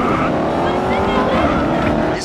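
Race car lapping the Red Bull Ring in Austria in the video game Grid 2, a steady loud engine drone with a faint tire squeal near the end, a voice talking over it.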